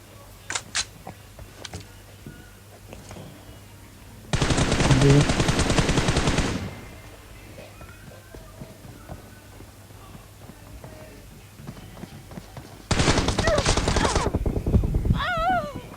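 Gunfire in the PUBG Mobile video game comes as two long, loud bursts of rapid automatic shots separated by a quieter stretch of game sounds.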